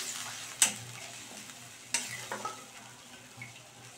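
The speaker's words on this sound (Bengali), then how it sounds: "দেওয়ার পরে কিন্তু খুব ভালো করে আমি মিশিয়ে দিচ্ছি" Spoon stirring through a pan of pabda fish curry as yogurt and water are mixed in, giving a few sharp scraping clinks over a soft continuous sizzle, close and moderately quiet with no voices.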